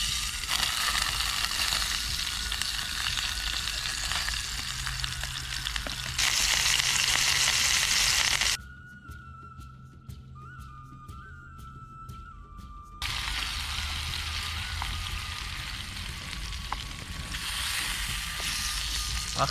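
Quail meat sizzles and crackles as it fries in oil, a steady loud spatter that drops away briefly to a quieter stretch with a faint tone before the frying noise returns.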